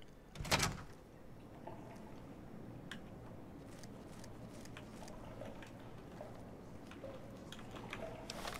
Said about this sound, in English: Door to the bathhouse.